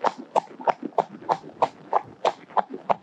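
A horse trots in a saddle, with an even two-beat clip-clop of hooves about three strikes per second, close and clear with no talk over it.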